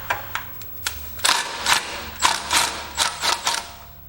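A hand ratchet clicks in short uneven bursts while loosening the bolts that hold a gas tank, crisp close metallic ticks with brief pauses between them.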